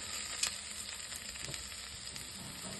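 Vegetables for sambar sautéing in a pot with turmeric and tomato, a soft continuous sizzle with faint stirring scrapes, quiet and steady throughout.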